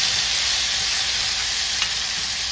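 Chicken sizzles steadily in a pot with blended spices, Haitian style, a dense continuous frying hiss with faint stirring, close and alone without talk.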